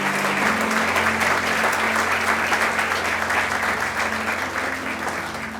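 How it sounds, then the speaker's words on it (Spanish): A church congregation claps together in a worship service, a loud, even roar of many hands sustained for several seconds with a low hum beneath it, fading a little toward the end. "Le damos un aplauso al Señor"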